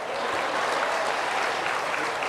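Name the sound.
applause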